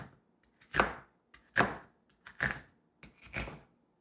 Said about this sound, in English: we can move on to slicing the onion